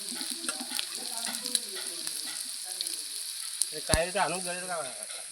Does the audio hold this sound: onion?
yes